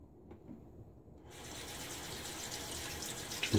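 Tap water running steadily as a shaving brush handle is rinsed, beginning after a quiet moment and continuing as a close, even gush that swells slightly at the end.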